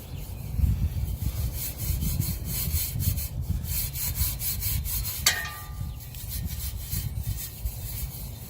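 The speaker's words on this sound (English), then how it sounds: "we're just going to sit here and just scrub" Chrome on a 2004 Harley-Davidson Sportster XL1200C being scrubbed by hand, a continuous close rasping back-and-forth rub with even strokes lasting several seconds, no talking.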